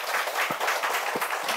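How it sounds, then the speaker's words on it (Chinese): An audience at a talk applauds students who donated small wooden cabins, giving a short, dense patter of clapping at steady volume with a few louder hand claps standing out near the listener. "我们给这些同学鼓掌一下"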